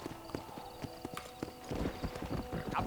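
A horse gallops in the Red Dead Redemption video game, clip-clop hooves beating in a quick, uneven rhythm close up, with a brief whinny-like texture and game sounds around it.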